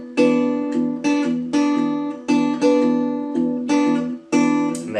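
Acoustic blues guitar playing a steady alternating bass with little chords added here and there: loud, close plucked notes in an even rhythm, each ringing on, with no voice over it.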